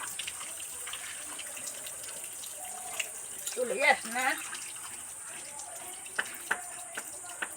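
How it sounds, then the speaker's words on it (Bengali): Small fish being washed by hand under running tap water, a steady faint stream with splashing and handling noises rising briefly in the middle, and a soft voice in the background. "সবার আগে চুনো মাছটা ভালো করে ধুয়ে নিই"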